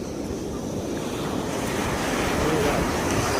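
Sea waves break and wash continuously at a beach, a loud, steady surf roar mixed with wind buffeting the microphone.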